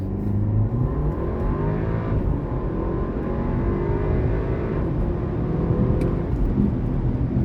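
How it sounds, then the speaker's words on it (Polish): A 2017 Porsche Macan 2.0 T with a 303 hp engine launching to 100 km/h, engine rising in pitch through several gear changes, loud and continuous from inside the car. "Mamy dograną procedurę startową, no i przyspieszenie do pierwszej setki."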